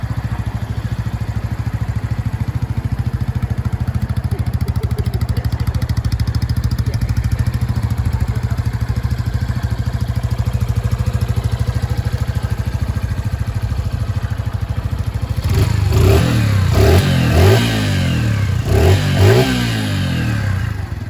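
A Herald scrambler motorcycle engine idles with a steady low throb for a long stretch, then gives several sharp throttle blips near the end, loud and close.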